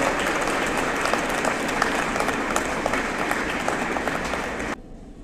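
Loud, sustained applause from a crowd at a political gathering, greeting the state party president on his birthday, with dense clapping that carries steadily before cutting off abruptly near the end.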